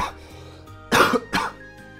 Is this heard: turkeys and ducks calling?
no